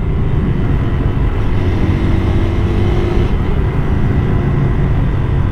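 A Hero Hunk 160R 4V motorcycle riding on a road, its engine giving a loud, steady drone mixed with wind rush that holds level throughout, with no voices.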